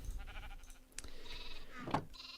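Sheep in Minecraft bleating, a couple of short nasal baas standing out clearly against a quiet game background.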